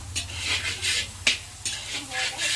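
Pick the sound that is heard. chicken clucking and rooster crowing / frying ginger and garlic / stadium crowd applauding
frying ginger and garlic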